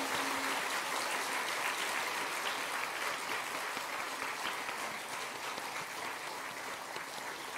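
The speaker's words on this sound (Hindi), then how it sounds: "एक बार मातृशक्ति के सम्मान में तालियों की गड़गड़ाहट करें" An audience at a religious gathering claps in honour of the women, a dense, even roar of applause that holds steady from start to finish, somewhat distant and with no voices over it.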